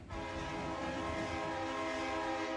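Train running in a Bangla horror cartoon, a continuous, steady rumble with droning tonal hum, heard evenly from start to finish with no voices.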